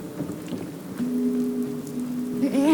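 Rain falling in the video game Fallout 4, a steady close downpour hiss with low rumble beneath and a droning hum rising near the end, with no talking.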